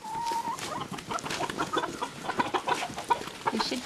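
Chickens cluck softly nearby in short, repeated bursts, with a few higher chirps mixed in over a quiet background.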